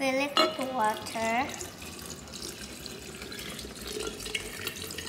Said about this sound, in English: Now fill it with water.